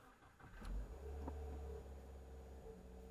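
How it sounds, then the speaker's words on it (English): A 2021 Subaru WRX with a Cobb Accessport Stage 1 tune cranks and fires, a brief starter whir followed by a swelling rev, then settles into a steady, close, low idle rumble. "So we're going to go ahead and turn on the car."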